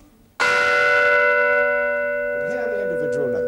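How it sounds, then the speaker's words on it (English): A large metal bell struck once, its many partial tones sounding together as a rich sustained chord that rings on loudly and slowly fades, with faint voices or other sounds entering near the end. "we can hear them all at once, the old-fashioned way, by striking the bell"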